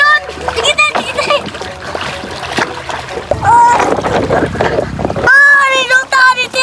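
Children splash in a river while riding a plastic basin, producing loud, close splashing and water sloshing under excited kids' chatter and shouts, with some wind noise on the microphone.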